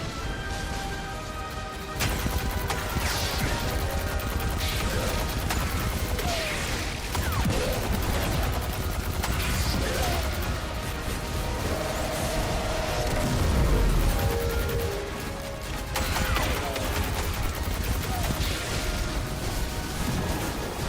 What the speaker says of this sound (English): just constant, rapid fire, non-stop.